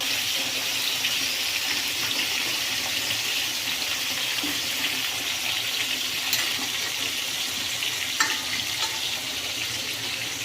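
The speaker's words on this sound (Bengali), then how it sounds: "চিকেনগুলো ভাজার জন্য দিয়ে দিয়েছি।" Chicken pieces fry in hot oil with a steady, loud, hissing sizzle that runs unbroken throughout, close up, with a few faint clinks and no voices.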